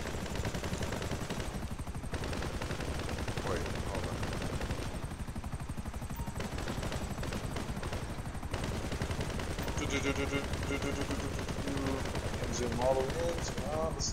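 Gunfire from Grand Theft Auto V Online rattles through in bursts across the clip, loud and close, with voices talking over it.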